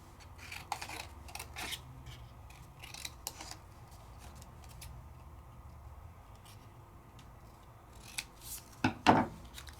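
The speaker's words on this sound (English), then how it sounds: "So just cut out my paper." Scissors snip through craft paper with a series of close, quiet crisp cuts, separated by soft rustling, with a louder cluster of snips near the end.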